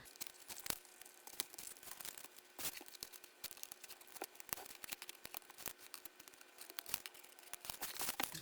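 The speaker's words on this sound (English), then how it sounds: "let's pull this tape off" Tape being peeled off a DIY spiral journal, with a run of sharp, close ripping and crinkling bursts spread unevenly over several seconds and quiet gaps between them.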